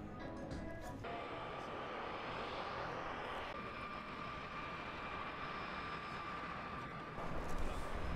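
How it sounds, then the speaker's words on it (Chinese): Jet airliner engines drone steadily as the plane taxis toward the runway before takeoff in downtown Vancouver, a broad continuous roar heard from a distance with a faint whine on top, growing slightly louder at the end. "飞机准备起飞还挺有意思，不过它要花好长时间它才起飞"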